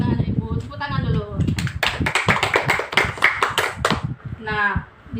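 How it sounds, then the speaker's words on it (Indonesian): Children in a classroom clap their hands together on a teacher's cue, a burst of quick, slightly uneven claps close by, with voices heard before and after. "tepuk tangan dulu"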